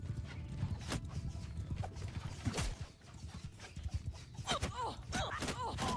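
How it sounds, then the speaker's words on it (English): A horse galloping in the Bannerlord War Sails video game: a fast, close clip-clop of hooves with a brief whinny, heard alone over game ambience. "Go faster, horse."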